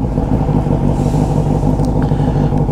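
A turbocharged Yamaha XJ6 motorcycle engine runs steadily up close, a dense low rumble holding an even idle-like pace without much revving, alone with no voices over it.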